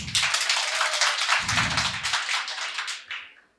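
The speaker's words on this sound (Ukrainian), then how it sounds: "Аплодуємо весні." Close, steady applause from a live audience fills the air with a thick patter of many hands, then thins and fades out over the last half second.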